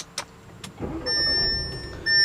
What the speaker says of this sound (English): put your foot on the brake and push the button to start the engine